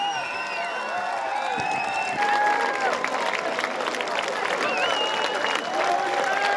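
Outdoor crowd applauding and cheering a swimmer finishing a sea crossing during a 200th-anniversary celebration of Zeeuws-Vlaanderen, steady clapping with whoops and chatter throughout, fairly loud and close.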